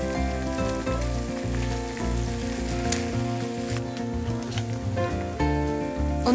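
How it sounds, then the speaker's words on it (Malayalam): Chicken sizzles and fries steadily in a pan for a pepper sauce, a continuous close crackle running beneath background music. "ഒന്ന് ഫ്രൈ ആയി വന്നാൽ മാത്രം മതി, ഒരുപാട് ഡ്രൈ ആവണ്ടെന്ന് പറഞ്ഞ്"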